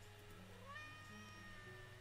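A single faint cat meow rises and trails off from the video game Let the Cat In, set over a steady low background hum.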